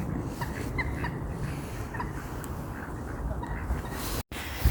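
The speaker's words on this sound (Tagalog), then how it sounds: "Naglalaro yung mga duck." Ducks call softly in a park in Braunschweig, Germany, a few faint, scattered calls sitting low under a steady outdoor background hiss with no talking.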